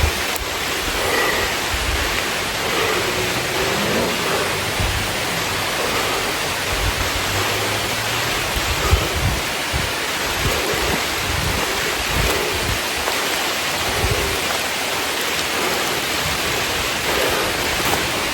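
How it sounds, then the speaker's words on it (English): Rain falls during a hike among the rock formations at Natural Chimneys, heard as a steady, dense hiss of drops filling the surroundings, with faint wind and soft movement underneath and no talking. "it's starting to rain."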